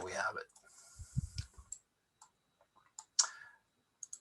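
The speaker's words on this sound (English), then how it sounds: "So hold down the control and click" Computer mouse clicks while the control key is held, a few light, close clicks spread sparsely through a quiet stretch, with someone talking at the start.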